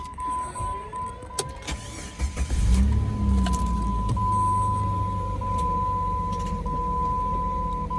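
A salvage car at a Copart auction yard cranks and fires up, with a few clicks and a whirring starter before the engine catches and settles into a steady idle, with a constant high tone running through it.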